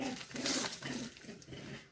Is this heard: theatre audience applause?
no